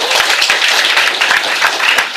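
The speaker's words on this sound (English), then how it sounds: "Round of applause to Nick." An audience at a software talk applauds, dense steady clapping for about two seconds, close and lively with no pauses.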